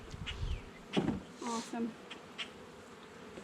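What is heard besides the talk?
honey bees buzzing in an opened hive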